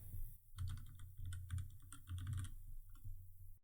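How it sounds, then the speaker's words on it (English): Quick, close keystrokes on a computer keyboard come in a short irregular burst as a company name is typed, with a brief pause before the clicking starts. "and then I'll type in the company name."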